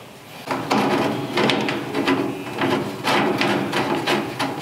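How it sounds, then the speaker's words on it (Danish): Fitting a screw and nut into a gas grill gas cylinder compartment cabinet during assembly, a series of close clicks, taps and light metallic knocks in irregular rhythm, heard alone. "Vi sætter skruen i med en møtrik på bagsiden her."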